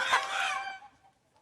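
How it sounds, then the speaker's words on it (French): Chickens give one loud squawking cluck-crow call that fades away, close and alone, with no talking. "Et ce bruit? C'est aussi le poulet, Sidi."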